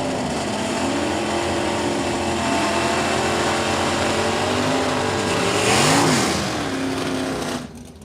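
Stock-class Camaro race cars, among them a 1987 Camaro with a 305 engine, roar loudly at a drag race. A steady, continuous engine drone swells near the end and then drops away.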